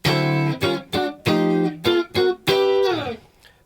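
Guitar plays a full-band synchronized climb from a song: a run of short, bright distorted chords rising in steps, ending on one longer chord that rings out and fades.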